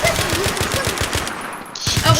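Gunfire in a police video game cracks in a rapid, evenly spaced series of loud, close shots, then stops briefly before a few more bursts.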